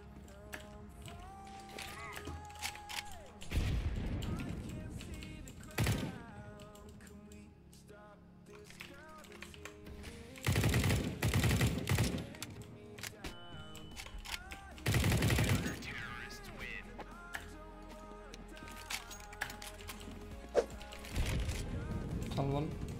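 Gunfire from the video game CS:GO breaks out in several sharp bursts and rapid automatic volleys against a background of in-game sounds, with voices talking over it.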